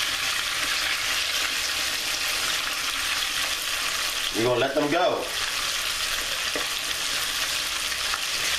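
Buttermilk-battered chicken pieces frying in hot oil, a steady close crackling sizzle throughout, with someone briefly speaking over it midway.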